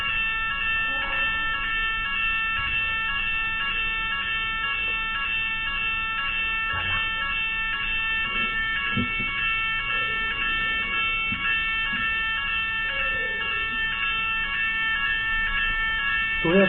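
An alarm rings continuously at a pelota fronton during a women's trinquet match in Béarn, a loud steady electronic tone with pulsing harmonics filling the whole stretch while people talk underneath.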